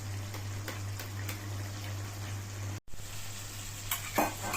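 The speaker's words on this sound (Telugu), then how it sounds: "ముక్క ఉడికిన దాకా బాగా వేగనేయాలి" Chicken pieces fry for a gongura chicken curry, giving a steady, close sizzle in the pan with a constant low hum beneath, a brief cut midway, and a few louder spits and stirring scrapes near the end.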